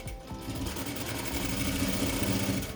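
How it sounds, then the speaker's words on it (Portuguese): A sewing machine runs a seam with a 1 cm margin along the top of a maternity bag, producing a close, continuous motor whir and rapid stitching rattle with no talking. "Aí agora a gente vai na máquina e vai passar uma costura aqui na parte de cima."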